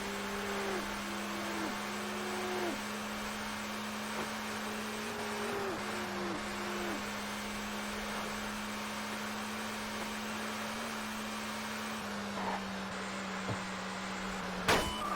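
Car engine held at full throttle in Test Drive Unlimited on a single-track road, a sustained steady drone with gear-change shifts in pitch recurring several times, loud and continuous, ending with a brief knock.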